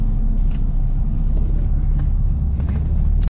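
Sleeper bus driving through Cambodia: loud continuous low engine rumble and road noise heard from inside the cabin, steady throughout with faint rattles and no clear talk.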